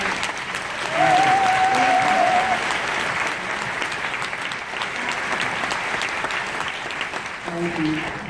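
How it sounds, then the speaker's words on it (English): An audience in a theater on a classic film cruise gives Jerry Lewis a warm, sustained round of applause, steady clapping throughout with someone speaking over it near the start and again at the end. "give you a great round of applause"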